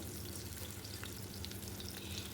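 Potatoes and cauliflower fry in hot oil with turmeric, giving a faint, steady hiss and crackle with no voices.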